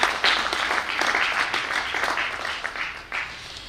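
A crowd applauding at a public event in Varanasi, a broad, continuous wash of clapping that stays even and moderately loud before thinning slightly near the end.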